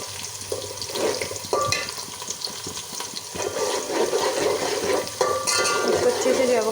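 Onions sizzle in ghee in a pan for matar pulao, a steady bubbling hiss that grows louder toward the end, with a faint voice now and then.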